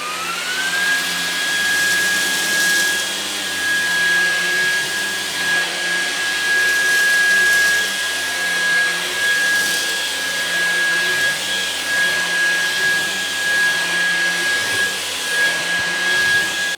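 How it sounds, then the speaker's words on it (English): A loud, steady whine of a LEVOIT cordless vacuum cleaner running continuously on carpet, with a high motor tone holding constant and slight rises and dips as it moves. "let's try this vacuum cleaner out and see how well it does on this."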